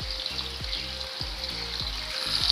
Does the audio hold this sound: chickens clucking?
no